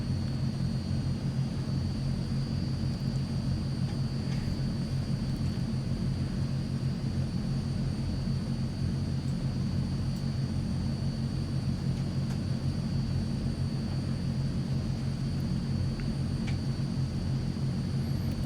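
Transall C-160 turboprop in Microsoft Flight Simulator beginning to taxi on its own, a constant droning engine rumble with a thin steady whine, even and unbroken the whole time, no talk.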